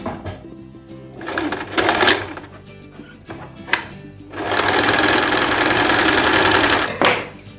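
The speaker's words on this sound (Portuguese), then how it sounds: "Para franzir, eu usei a minha sapatilha normal de costura reta, coloquei a minha tensão da máquina no maior ponto e a largura também no maior ponto" A sewing machine runs a long straight gathering stitch through dress fabric, with tension and stitch settings at maximum and a standard straight-stitch foot. It whirs in short bursts at first, then settles into one longer, louder run before a final brief spurt.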